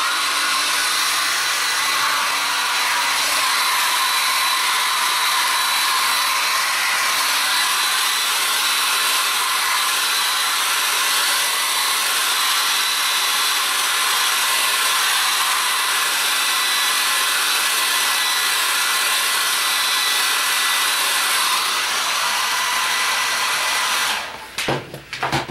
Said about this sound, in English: what I think I'll do is to give it a little heat with a hairdryer